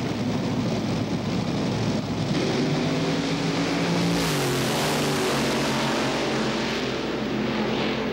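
A Top Fuel dragster, the Colorado Raider, races the Double Eagle at a 1989–92 drag strip, its engine a loud, continuous, crackling roar that fills the whole stretch without letup.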